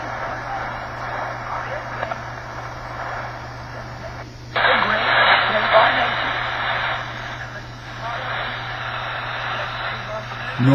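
Shortwave radio broadcast received in normal AM mode, a voice speaking over steady hiss and a low constant hum, growing louder and brighter partway through, with no one talking in the room.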